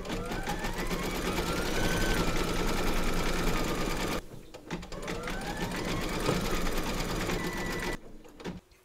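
Embroidery machine stitching white thread for a Santa's eyebrows in the hoop, running as a loud, steady whirring hum with fast rhythmic needle pulses, with two short pauses before it starts up again.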